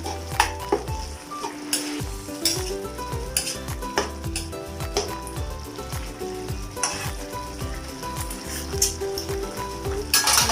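A spoon clanks and scrapes around a metal pot of boiling tilapia stew in quick repeated strokes while a pan sizzles steadily underneath.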